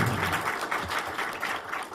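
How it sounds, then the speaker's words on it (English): An audience at an energy conference applauds a speaker, a steady wash of many hands clapping at moderate volume, with a faint voice underneath. "Round of applause."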